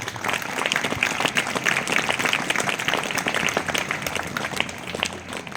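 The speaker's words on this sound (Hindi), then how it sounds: "एक बार जो 12th पास आउट के लिए ताली बजा दीजिए।" Sustained applause from a crowd at a school alumni gathering for students who passed 12th grade, many hands clapping densely and evenly throughout, loud and fairly close.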